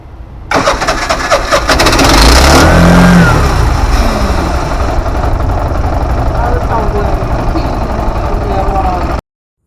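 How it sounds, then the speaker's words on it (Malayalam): An Atul CNG BS6 auto rickshaw with a newly replaced injector cranks, catches and revs hard up close, then settles into a loud, steady running engine. "അപ്പോൾ ഇനി നമുക്ക് വാഹനം സ്റ്റാർട്ട് ചെയ്ത് നോക്കണം."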